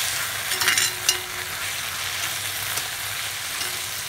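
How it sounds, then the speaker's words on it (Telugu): Mint leaves fry in oil for an Andhra-style mint garlic spice powder, giving a steady soft sizzle with a few brief stirring scrapes, close and alone. "పుదీనాకు వేగాలి కాబట్టి కొంచెం ఆయిల్ ఎక్కువ పట్టిద్ది."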